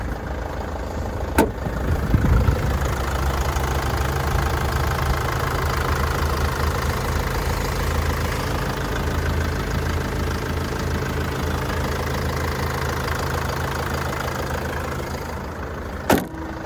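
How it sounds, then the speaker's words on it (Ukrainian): A 2011 Renault Trafic Passenger with the 2.5-litre, 150 hp engine idles smoothly and evenly, a steady low hum held close and alone for the whole stretch, with a couple of faint clicks near the start and end. "Зараз ми почуємо роботу мотора, моторчик просто шепче."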